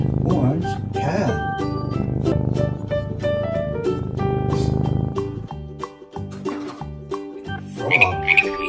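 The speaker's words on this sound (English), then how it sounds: "Frog." A green squishy toy frog with yellow spots croaks repeatedly over steady, upbeat background music that keeps going throughout.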